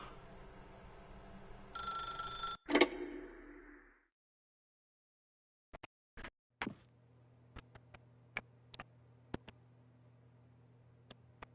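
A telephone rings in The Stanley Parable video game: two brief bright bursts early on, then silence, followed by a sparse series of short sharp clicks or ticks over a low steady hum.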